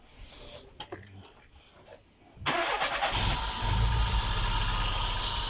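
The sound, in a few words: Opel Corsa B engine starting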